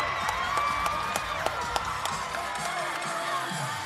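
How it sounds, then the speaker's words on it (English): A home crowd of Aggie fans cheers and claps in a packed gym during the fourth quarter of a high school basketball playoff game, a steady roar with sharp claps and whoops throughout, fairly distant. "The Aggie crowd feeling it."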